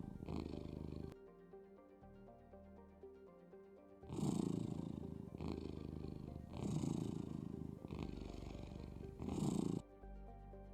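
A cat purr sound effect plays in VRChat, loud rhythmic purring bursts in several long cycles with short quiet gaps, over a faint musical backdrop.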